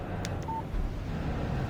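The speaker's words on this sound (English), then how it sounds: "Text message from Barry" A phone message alert chimes in the Alan Wake video game, a short electronic tone standing alone over a low ambient rumble.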